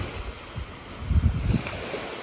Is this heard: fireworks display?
no